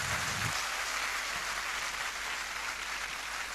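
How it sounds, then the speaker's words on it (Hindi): An audience at an indoor gathering claps loudly and continuously for several seconds in a dense, even roar of applause, with no voices over it. "सबसे जोरदार तालियां।"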